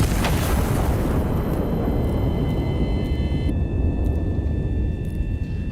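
One huge shot from a heavy turret gun in the Iron Nest: Heavy Turret Simulator game erupts with a loud boom, followed by a dense, sustained rumbling roar that barely fades over several seconds.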